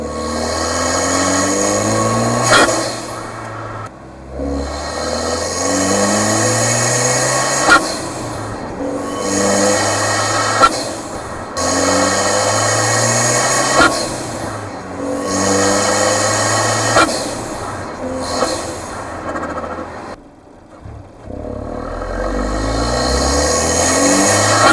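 A turbocharged car engine fitted with a soft yellow Forge blow-off valve spring surges at low RPM, its drone rising and dipping in a repeating wavering pattern every few seconds, close and fairly loud with no talk.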